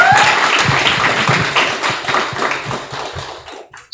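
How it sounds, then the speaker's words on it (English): Applause from a tech meetup audience, a dense patter of clapping that starts strong and thins out and fades over a few seconds. "Please give a big round of applause for it."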